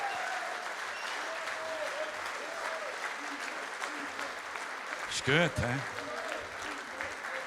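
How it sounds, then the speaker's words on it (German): An audience in a Basel cultural hall claps steadily in a dense, moderately loud patter, with a voice speaking over it and a brief louder exclamation near the end. "Mehr Applaus wie beim Fußball."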